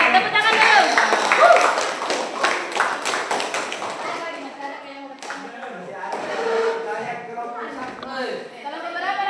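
Students in a classroom lesson on freezing point depression break into a burst of quick, close hand clapping that fades after a few seconds as voices take over.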